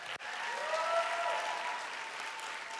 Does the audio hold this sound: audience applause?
yes